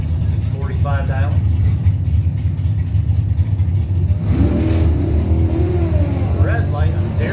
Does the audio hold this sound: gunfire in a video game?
no